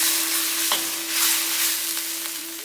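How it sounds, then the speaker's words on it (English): Chilli potato wedges fry with roasted sesame seeds in a pan, giving a loud, steady, close hiss and sizzle with a faint clink of stirring over a constant hum. "Now I have to fry little bit."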